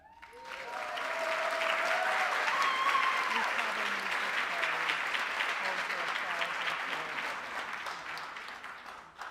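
Sustained applause from a crowd at a fall nursing pinning ceremony, rising quickly and holding steady for several seconds, with a few voices faintly underneath.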